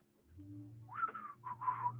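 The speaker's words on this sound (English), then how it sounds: "whistling to himself" A man whistles a short tune to himself, a few faint chirpy notes rising and wavering over a low, steady background hum.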